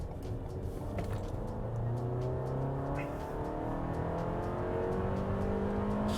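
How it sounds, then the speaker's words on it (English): A 2020 Toyota RAV4 engine revs loudly and accelerates. A continuous rising drone climbs through several gear changes, close and steady, with no talk over it. "God, that's a loud engine."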